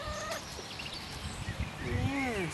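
Domestic hens cluck softly at close range against a steady background hiss, with a short run of rising, wavering calls near the end.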